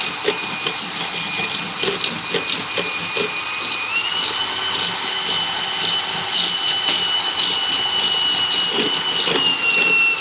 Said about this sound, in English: this drill's getting heavy